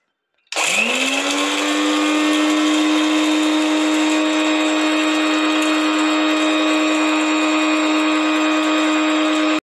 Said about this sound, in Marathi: आता थोडं थंड झालं की मिक्सरला बारीक करून घेऊया